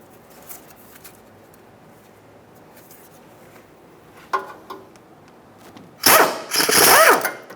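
A ratchet with an 8mm socket works the bolts on a 2002-2005 Ford Explorer front drive shaft, starting with faint clicks and finishing with a loud burst of rapid ratcheting near the end.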